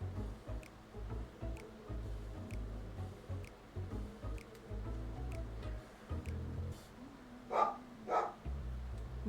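A dog barks quietly from a different room, a few soft muffled yips and bow-wows spread across a low, humming indoor background.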